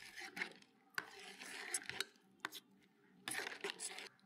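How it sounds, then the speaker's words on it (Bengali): Payesh, a rice pudding with cardamom powder, stirred in a pot: quiet scraping and rubbing strokes of a spoon against the pot, in several short bursts separated by brief pauses, faint and close. "এলাচ গুঁড়োটা দিয়ে দিই, একটু নাড়াচাড়া করে দিচ্ছি"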